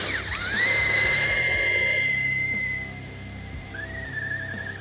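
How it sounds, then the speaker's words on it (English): A 3/8 drill bit bores a hole into a GMC Sierra or Chevy Silverado cab, with a loud, steady high-pitched whine that rises as the bit bites in, dips briefly near the end and then picks back up, heard alone without talk. "So I actually want to go first and go through it with the 3/8, and then I'll hit it with the unibit."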